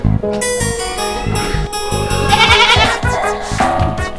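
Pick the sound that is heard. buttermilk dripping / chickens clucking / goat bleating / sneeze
goat bleating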